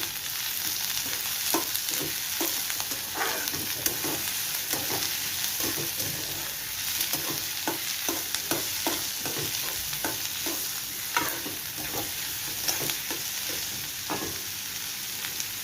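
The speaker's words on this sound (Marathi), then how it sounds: "आता आपण याच्यामध्ये हा चिरलेला कांदा टाकू." Chopped onion dropped into hot tempering oil with curry leaves and garlic, giving a steady loud sizzle with repeated stirring scrapes throughout and no talking.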